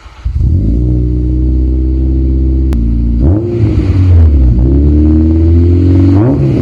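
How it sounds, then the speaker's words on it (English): A K20-swapped Honda EG hatch idles loud and close through its new exhaust, then revs sharply a couple of times. The engine note rises and falls over a deep steady rumble. "I will input clip here of the exhaust going vroom vroom."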